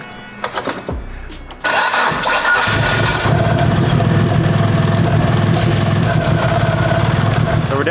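A BMW engine, just back together after its fuel injectors were cleaned, cranks briefly and then catches into a loud, steady idle that runs on evenly and close by.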